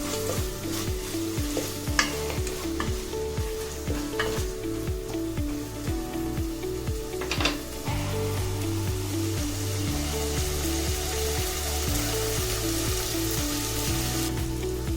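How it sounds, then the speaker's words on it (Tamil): Mint, green chili and curry leaves sautéing in a pan of oil give a loud, continuous close sizzle, broken by a steady rhythm of scraping stirs that ease off partway through. "இதில் புதினா, பச்சை மிளகா, கருவேப்பிலை எல்லாம் சேர்த்துக்கலாம். சேர்த்து லேசாக வதக்கலாம்."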